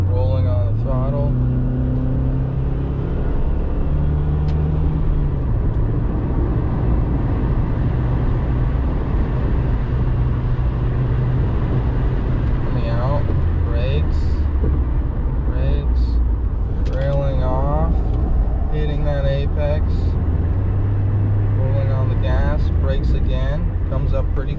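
A race car at Thunderhill Raceway East Circuit brakes, then rolls back onto the throttle, engine tone dropping and climbing again through repeated rising revs, with a person talking over the steady in-car drone.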